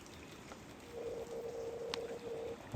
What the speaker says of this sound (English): hear the creek way off in the distance, just roaring.